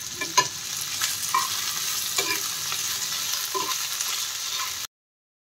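Onion and green chili fry in vegetable oil in a frying pan, giving a continuous close sizzle with a few light stirring scrapes. The sound cuts off abruptly near the end.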